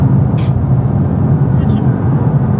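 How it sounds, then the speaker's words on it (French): Cabin sound of a Nissan GT-R R35 with the windows closed: a continuous muffled engine rumble and road noise fill the car, with brief faint sounds above it. "le bruit il est sympa finalement, fenêtre fermée"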